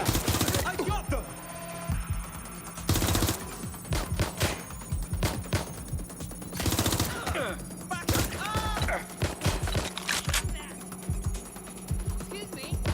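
Gunfire in the video game Watch Dogs: Legion crackles in repeated bursts and single shots over a busy game soundscape, while a person talks over the action.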